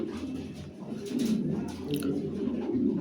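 Lahori pigeons at a farm give soft, low cooing calls in a few short rolling bursts, close to the microphone and fairly quiet.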